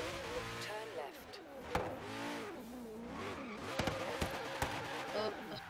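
A car spinning out while racing in Forza Horizon 3, with engine drone and tire noise running throughout alongside a few sharp knocks, heard under steady talk from a player.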